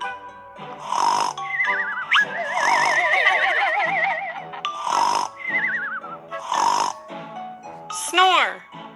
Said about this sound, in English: Grandpa kept on snoring